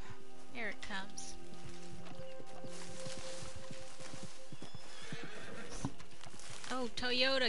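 A horse in Red Dead Redemption 2 Online neighs loudly twice while hooves clop in a walking rhythm, mixed with synthetic game effects; a voice talks over parts of it.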